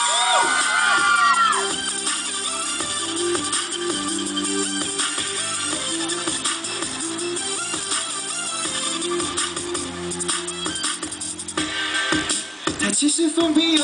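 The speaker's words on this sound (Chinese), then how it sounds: "来宾请掌声加尖叫啊" A crowd at an outdoor fan meeting and signing event for a boy band in a southern park, cheering, whooping and screaming loudly and continuously over amplified music.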